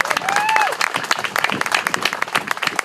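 An audience breaks into dense, lively applause, many hands clapping at once, with a brief whistle cutting through near the start.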